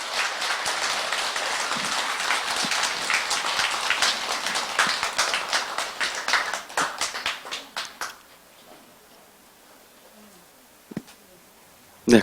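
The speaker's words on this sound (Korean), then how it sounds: "큰 박수로 환영해 주시기 바랍니다" An audience at a Sunday temple service claps loudly to welcome a guest lecturer. The applause is dense at first, then breaks into scattered claps and fades to near silence with a couple of faint knocks.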